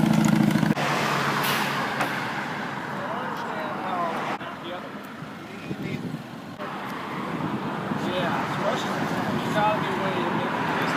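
Road traffic streams past a roadside protest on Memorial Day weekend, a continuous rumble of cars and trucks with wind noise, and voices talking over it.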